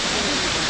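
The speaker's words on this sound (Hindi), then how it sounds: "झरना है गिर रहा है, थोड़ी थोड़ी बूंदें आ रही हैं आपको।" Bakthang Waterfall near Gangtok, Sikkim, pours down in a dense, even hiss of falling water, close and loud with fine spray, a short unbroken burst of roar.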